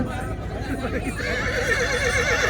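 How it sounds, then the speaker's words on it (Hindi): Horse neighing at a horse show competition at the Ranakpur Jawai Bandh festival, a brief wavering whinny rising over an announcer's voice on a loudspeaker. "चेतक नाम का घोड़ा, चेतक नाम का अश्वर अपने अश्व को लेकर यथाशीघ्र मंच के सामने पधारे।"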